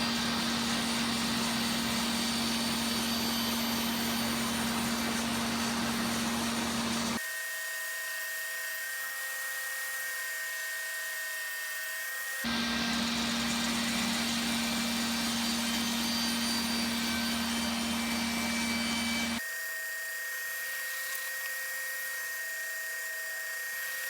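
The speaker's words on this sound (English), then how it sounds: "I'm actually going to rip them down on the table saw to 25mm" A table saw rips reclaimed hardwood boards down to 25mm, two loud roaring cuts, each followed by a thinner whining spin-down, close and without talk.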